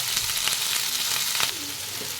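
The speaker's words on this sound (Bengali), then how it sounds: "সিমটা আমার এখানে ভালো করে ভাজা হয়ে গেছে" Flat beans fry with salt and turmeric in a pan, a loud, continuous sizzle up close with occasional scraping stirs and no talk.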